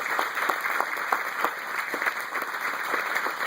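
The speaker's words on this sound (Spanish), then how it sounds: "¿Cuánto le da un aplauso al Señor?" A church congregation claps steadily for several seconds, a dense, even patter of many hands filling the room with no voices on top.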